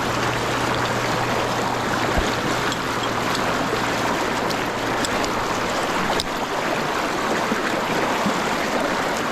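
A small creek rushes and gurgles in a loud, continuous flow, heard up close while someone wades across it with a staff. The noise is steady throughout, broken only by a few faint clicks.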